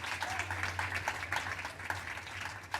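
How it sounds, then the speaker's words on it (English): Scattered audience applause for panel speakers at a conversation event on activating environments, moderate and steady with a low hum underneath, no talk. "I'd like for everyone to give our speakers a big round of applause."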